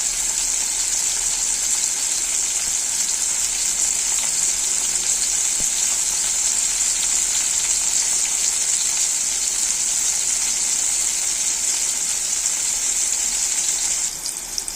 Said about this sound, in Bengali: উচ্ছেটাকেও একটু লাল লাল করে ভেজে নেব।